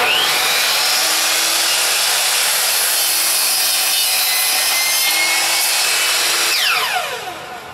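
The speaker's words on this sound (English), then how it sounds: "We can plug our drill in." A corded drill cuts through a wood piece for an R2-D2 rear logic display surround, a loud continuous grinding-rasp close up that holds steady before winding down near the end, with no talking.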